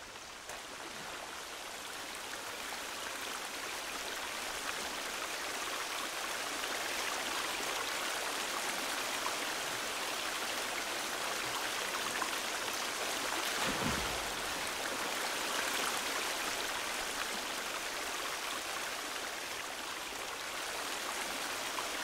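Steady rushing water from ponds and waterfalls in the video game The Forest, a constant broadband wash with no voices, holding at an even moderate level throughout.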